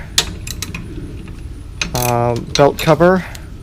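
Metal clanks and ratcheting clicks as belt cover bolts are worked loose on a Classen TS-20 overseeder during an engine replacement, several close, sharp taps and bursts, loudest toward the end.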